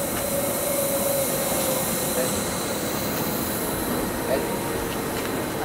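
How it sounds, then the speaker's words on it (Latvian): A mountain train near Lauterbrunnen, Switzerland, rumbles steadily along rails, wheels squealing in a faint high whine over the constant low roar. "Jā, tāda ir vilcieniņa."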